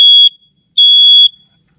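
A GE Interlogix smoke detector (part TX-6010-01-1) sounding its test alarm while its test button is held: two loud, piercing electronic beeps, a short one followed by a longer one after a brief gap, with no talking.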